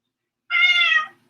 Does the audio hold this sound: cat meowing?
yes